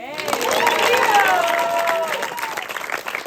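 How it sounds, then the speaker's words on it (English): A short swell of clapping from a festival audience at an ashram gathering, mixed with cheering voices, rising quickly and holding before tapering off within a few seconds. "How about big round of applause for everybody coming from all over?"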